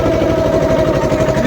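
A small Mahindra Jivo 245Di 4WD tractor engine runs steadily close up after being put in gear in a muddy puddling field, a loud low diesel chug with even knocking pulses and no voices.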